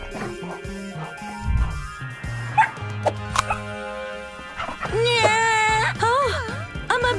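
A cartoon space dog barks and yips in a children's animated show, several loud sharp barks and whimpering yelps that come and go between voices speaking.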